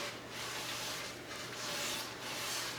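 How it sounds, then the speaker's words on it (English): Minwax satin wipe-on poly finish being rubbed onto wood with a cloth, producing a steady, soft, close scrubbing hiss with gentle back-and-forth swells and no talking. "just going to wipe it on and let it soak in and wipe off any excess."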